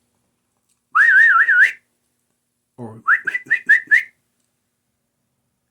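A person whistles to call a dog: first a warbling trill of about a second, then a pause and a quick series of five short rising whistle blasts, clear and close against silence.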